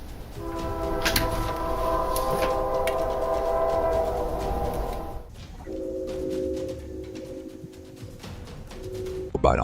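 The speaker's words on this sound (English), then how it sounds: "a late-night train interferes with all his videos" At night, a train horn blows in long, steady tones over a rumbling rail noise, breaks off, then sounds again in a lower pitch.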